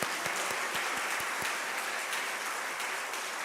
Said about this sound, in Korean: 하나님께 감사의 박수를 올리겠습니다